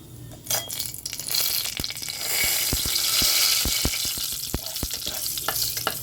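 Two or three bay leaves and a black cardamom with its pod opened sizzle in hot oil for Lahori chole. The frying is steady, with sharp clinks and scrapes of stirring over it.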